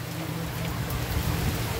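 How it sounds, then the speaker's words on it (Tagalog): Steady rainfall during a Philippine downpour, a dense, continuous hiss with low rumbling beneath, constant and fairly loud throughout. "umuulan, oh."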